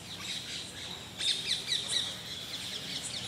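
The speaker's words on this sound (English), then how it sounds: "It's a beautiful place, all this sound, chirping sound." Faint bird chirps and tweets ring out over a quiet outdoor garden background where a peacock is present, with a brief busier burst of calls in the middle.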